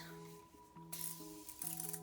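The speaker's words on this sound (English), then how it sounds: "I'm going to finish the makeup with the setting spray, and the one which I absolutely love is the Morphe setting spray. So I'm going to quickly spray it out." Morphe makeup setting spray gives two short, airy hisses close by over soft background music.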